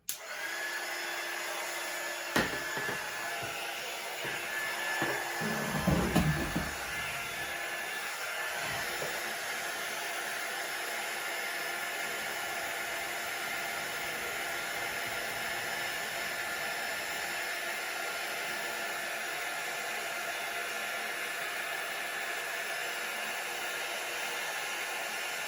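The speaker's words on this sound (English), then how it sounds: "My heat gun is back to life. Literally just in time to melt these frickin' crayons." A heat gun blows hot air in a steady, loud broadband whoosh while melting crayons on canvas, with a few knocks and rustles early on, then a long uninterrupted rush of air.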